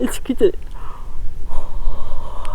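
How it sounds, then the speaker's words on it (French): A person yawns while reading a French novel aloud: a few close, breathy gasping bursts at the start give way to a longer drawn-out exhale. "Excusez-moi, je bâille."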